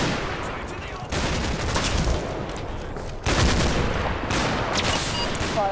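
Dense, sustained bursts of machine gun and rifle fire rattle through a World War II Normandy battle around Grainville Chateau in Combat Mission: Battle for Normandy, with a brief lull before the next loud volley.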